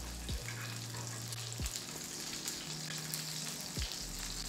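A steak sizzles and spits steadily in a hot pan while being basted, with rosemary and garlic nearby, the frying hiss continuous and close, punctuated by a few low thumps of the pan or spoon.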